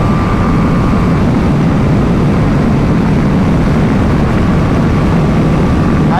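BMW 310 GS motorcycle pushed toward top speed on the road, a loud, unbroken engine roar blended with heavy wind rush, steady from start to finish.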